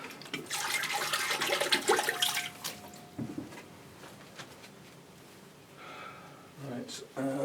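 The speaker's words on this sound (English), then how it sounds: "I water it quite lightly. So just a trickle for that, where the new root is basically." Water trickles and splashes lightly onto a potted orchid near a new root, a short, fairly loud pouring sound at first that fades into quieter background while someone talks.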